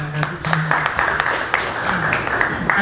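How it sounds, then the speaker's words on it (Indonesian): Scattered audience applause at a disability-awareness gathering, steady patter of hands with sharp individual claps, moderately loud and continuous, with a voice and low tonal hum running beneath. "Ya, oke, tepuk tangan dulu."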